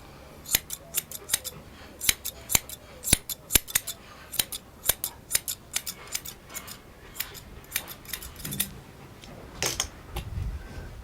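Scissors snip repeatedly in quick, irregular bursts of sharp metallic clicks while trimming a Bouvier des Flandres dog's hair, close up, with short pauses between runs of cuts.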